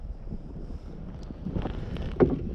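Wind gusts across a lake and buffets the microphone from a canoe during bass fishing, a low, rumbling roar that swells and fades with no talk.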